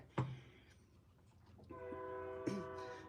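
A train passes some way off, its horn sounding in two long, steady blasts over a low rumble of rolling wagons, quiet and somewhat distant.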